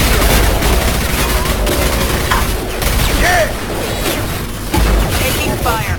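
Dense gunfire in a Mass Effect 2 shootout, continuous rapid bursts and booms dominating the mix, loud and close, with occasional voices underneath.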